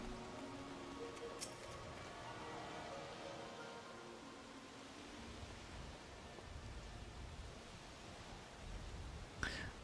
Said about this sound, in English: Downpour is nice.